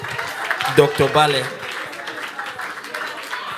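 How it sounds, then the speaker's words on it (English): Applause from a seminar audience rises briefly after a man's short spoken line, then carries on as a steady, moderate patter of many hands in a business productivity session. "I think a round of applause for"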